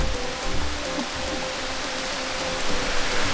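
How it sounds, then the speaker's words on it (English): Steady rain pours outside, a dense continuous hiss of drops hitting surfaces, loud and close throughout with no voices. "it's raining out"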